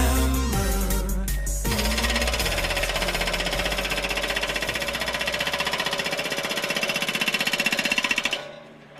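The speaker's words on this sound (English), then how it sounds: "Hammer, Impact Hammer, Impact Hammer, Impact Hammer, Impact Hammer." Loud, rapid mechanical pounding of a heavy impact hammer, a steady machine-gun rhythm with engine drone, cutting off abruptly at the end.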